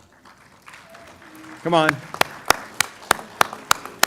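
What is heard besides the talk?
graduates applauding their families at commencement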